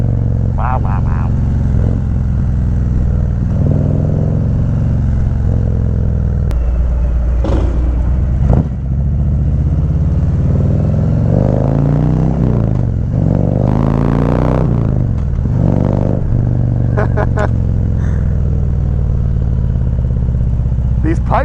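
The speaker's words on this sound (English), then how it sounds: "These pipes sound amazing, as you can hear." Harley-Davidson CVO motorcycle with a 117 engine riding in New York City: a continuous deep exhaust rumble from the pipes with revving swells and gear changes, with passing traffic and a rider talking over it.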